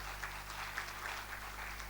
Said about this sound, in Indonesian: Ayo tepuk tangan dulu buat Allah kita.